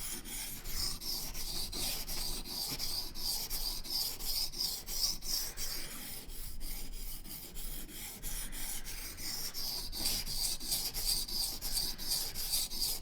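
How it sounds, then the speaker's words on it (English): A bushcraft knife drawn firmly across a sharpening stone to grind off the burr, a continuous rasping scrape with rhythmic strokes, close and steady throughout. "we run the knife on this side until the burr gets flipped over and ground into the other side"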